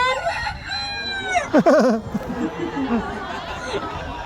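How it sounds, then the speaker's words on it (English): A red junglefowl rooster crows once at a zoo, loud and close, its call rising and wavering, with faint chatter before and soft clucking after. "the red jungle fowl, the ancestor to all modern day breeds of chicken"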